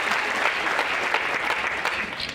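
Audience applause at a comedy show in Uganda, a steady, dense wash of many hands clapping together for the whole stretch, loud and close with no voices on top.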